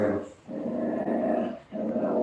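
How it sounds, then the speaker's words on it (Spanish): Dogs growl and bark in a continuous rough stretch, fairly close, with brief pauses between outbursts and no talk over them. "Los perros."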